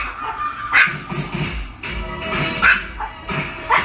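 A tiny 3-pound Chihuahua gives three short, sharp yips spaced about a second apart, with soft shuffling and background sound in between.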